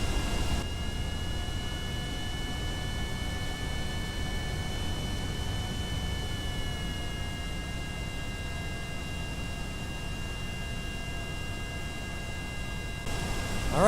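Steady, continuous engine drone of a Kerbal Space Program aeroplane at full throttle, a constant whining roar with slight pitch drift, moderately loud and uninterrupted with no talk over it.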